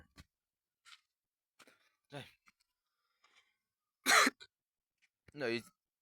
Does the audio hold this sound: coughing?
yes